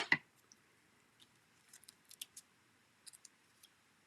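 Scissors snip through card-making material in a quiet room, a sharp click at the start followed by a few faint, scattered snips and small rustles.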